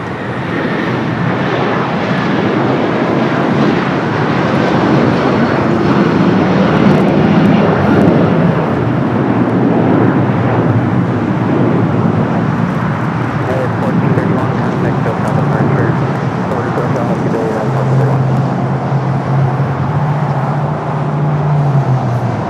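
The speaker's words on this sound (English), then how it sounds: "We got a United 757 300 now taking off." A United Boeing 757-300, 24 years old, takes off from runway 25 Right at LAX bound for Honolulu. Its jet roar is loud and steady and fills the whole stretch, with a rising whine and a low rumble that shifts as it passes.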